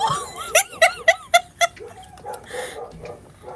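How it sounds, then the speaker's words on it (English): A dog barks close by in a quick series of five sharp barks, followed by softer, scattered sounds and faint voices. "Sorry for the barking."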